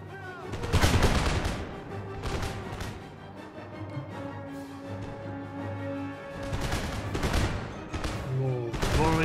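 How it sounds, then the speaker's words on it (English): Musket volley fire in the strategy game Empire Total War, a siege battle at a fort: loud rolling volleys crackle at the start and end, with a quieter stretch of battle noise and faint tonal music between them. "More volley fire present."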